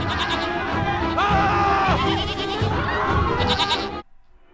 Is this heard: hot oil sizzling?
no